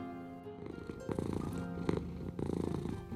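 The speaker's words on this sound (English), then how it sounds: "The purring void, who answered to the name of Luna, affectionately stuck fast beside me" A cat purrs close by, a faint low rumbling with a soft pulsing rhythm that swells and fades in breaths, alone and quiet throughout.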